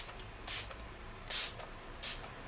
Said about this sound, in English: I'm just gonna spray some MAC Fix Plus